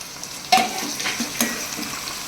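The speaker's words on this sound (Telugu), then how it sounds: "టమాటా ముక్కలు కూడా మెత్తబడిపోయి ఆనియన్స్తో కలిపిపోయేదాకా మంచిగా వేయించుకోవాలి" Tomato pieces and onions frying in a pan, a soft steady sizzle with a couple of brief spoon scrapes.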